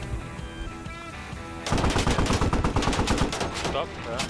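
Gunfire from a tank battle in the video game Squad: after a moment of rumble and background chatter, a loud, rapid burst of repeated shots rattles on for a couple of seconds, close and harsh.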